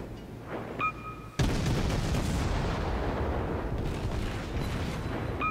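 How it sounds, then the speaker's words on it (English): Warships in World of Warships fire high-explosive shells at a burning enemy ship, with one sudden heavy naval gun blast followed by a long, dense rolling rumble of battle. "Everybody's firing HE on him"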